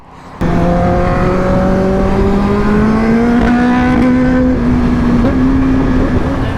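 A Yamaha R1 motorcycle engine roars in loudly after a short quiet start, its rising harmonic whine climbing steadily as the bike approaches and holds a strong revving tone to the end.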